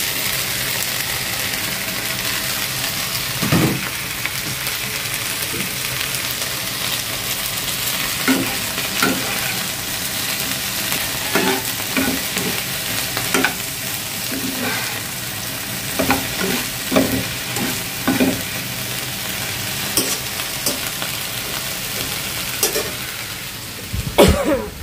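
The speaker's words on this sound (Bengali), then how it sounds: "হালকা একটু পেঁয়াজটা ভাজবো, বেশি না, যেহেতু অল্প তেল দিছি।" Onion lightly frying in a little oil, a low steady sizzle running throughout with scattered stirring clatters and scrapes, close and alone with no talk.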